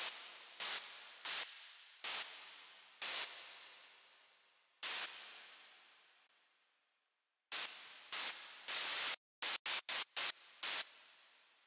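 Bursts of white noise synthesized on Synapse Audio Dune 2 hiss in short hits of varying length, each trailing off into a long, spacious big-room reverb tail, ending in a rapid cluster.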